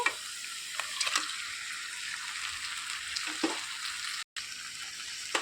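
Masala-coated chicken liver frying in a pan with curry leaves gives a steady, close, crackling sizzle, broken by a few clicks of stirring and one brief dropout.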